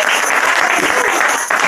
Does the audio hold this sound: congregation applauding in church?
yes